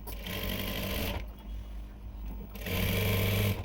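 A sewing machine stitches the side seam of a dress made from a sari, whirring steadily in two bursts with a short pause between them, close and clear.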